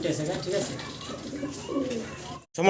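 Fancy pigeons, including a black pair, coo in a low rolling rhythm under steady nearby conversation, with a brief silent gap near the end before voices return.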